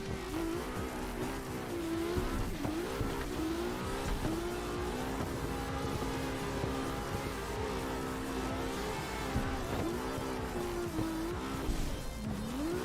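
In a racing video game with a wheel controller, a car drifts through a track, engine revving with rising and falling pitch under a sustained tire squeal, loud and continuous throughout.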